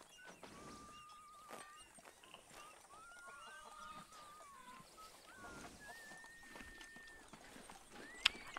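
Soft, irregular clip-clop of horse hooves plodding along amid light ambient sounds, fairly quiet and steady, with a sharp click near the end, in the game Red Dead Redemption 2.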